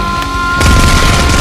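Toy guns firing in a toy weapons battle, a loud close burst of rapid popping shots that thickens into a dense rattling volley partway through.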